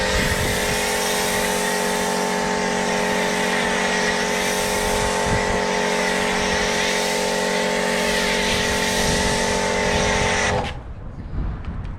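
A pressure washer sprays snow foam through an Autoglym Polar Blaster lance, making a loud, continuous motor whine with steady hiss that runs unbroken for about ten seconds, then cuts off abruptly into quiet room noise.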